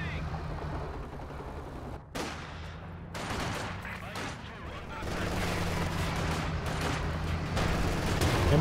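Sustained MG42 machine-gun fire in the Company of Heroes 2 game, dense rattling bursts with booming battle noise layered over a steady low hum, loud throughout with a brief dip before the firing resumes and continues.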